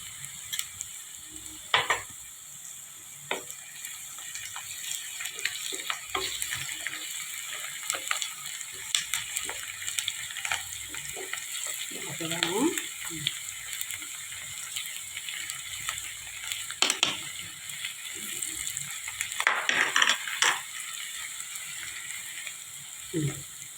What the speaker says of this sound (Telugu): చక్కగా బ్రౌనిష్గా వచ్చేటప్పటి వరకు వేయించుకుందామండి.